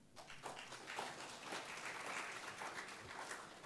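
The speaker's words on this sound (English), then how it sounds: "Let us give them a round of applause" Audience applause after a seminar on social entrepreneurship, honoring the speakers and the moderator; steady, dense clapping from a moderately distant crowd fills the whole stretch without pause.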